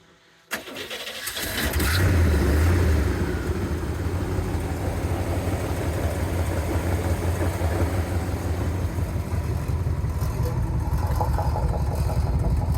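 A 1949 Olds Rocket 88 hotrod with a 409 engine, dual quads and side pipes cranks briefly, catches, then settles into a loud, steady rumbling idle close by.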